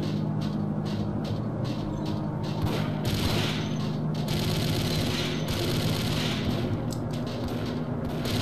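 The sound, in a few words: gunfire in Max Payne video game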